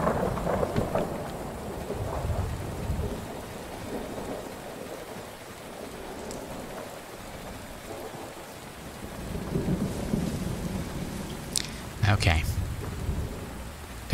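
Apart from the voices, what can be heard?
rain and thunder in the video game Fallout 4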